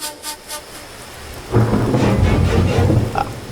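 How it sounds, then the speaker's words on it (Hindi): A sudden downpour outside with a rumble of thunder, starting quiet then swelling into a loud, dense wash of rain from about halfway through. "बाहर तो बारिश अचानक शुरू हो गई"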